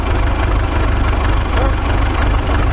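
A tractor engine idling in snowy conditions, a loud, steady low-pitched rumble with a faint regular knock, continuous and close throughout.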